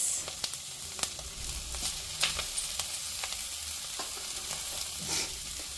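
Rice being stirred and mixed in a frying pan for betel-leaf rice, a steady soft sizzle with scattered scraping clicks from the spoon, close and moderately quiet, no voices.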